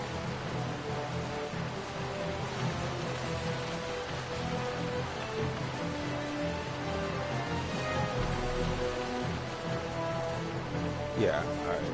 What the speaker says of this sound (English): So I'm gonna just keep doing this until it stops raining.